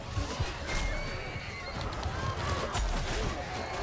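Horses of horse archers whinny and neigh amid hoofbeats in a medieval battle scene in the game Bannerlord, several calls spread across a busy, clattering soundscape with faint talk underneath.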